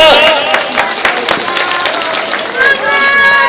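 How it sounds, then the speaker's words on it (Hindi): An election rally crowd breaks into loud, sustained applause and clapping, a dense patter of many hands close by that swells again toward the end, with voices mixed in. "जोरदार ताली बजा दो।"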